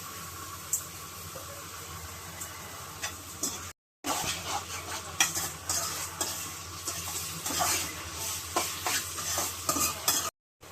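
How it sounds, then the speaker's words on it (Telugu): Tomato rice frying in a pan with ginger paste, a spoon stirring and scraping steadily through a gentle sizzle, broken by two short silent gaps, with no talk. "కొంచెం కలుపు,"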